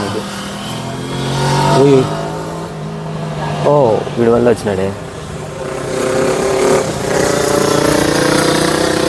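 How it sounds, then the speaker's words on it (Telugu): Motorcycle engines rev and roar past close by at a car racing event in Bangalore, rising and falling in pitch, with people talking over the noise. "వెనకాల బైక్స్ వస్తున్నాయి"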